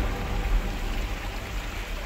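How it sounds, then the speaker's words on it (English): Steady rain patters with gusty wind buffeting close by, a dense rushing hiss without a break. "It's so rainy and windy now."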